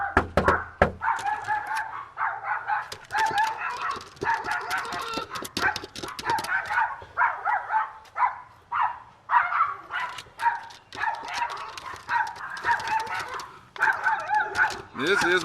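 Aggressive Chihuahuas in South Carolina bark nonstop during a greeting, a loud dense stream of sharp high yaps with hardly a pause from start to end.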